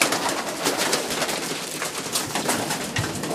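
Racing pigeons coo steadily in a breeding loft, a dense, continuous flutter of overlapping calls close by with no voices.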